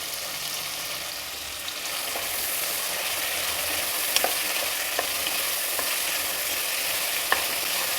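Chopped capsicum fries in hot oil with a steady, close crackling sizzle throughout, broken by a few sharp clicks of a spatula stirring the pan; no one speaks.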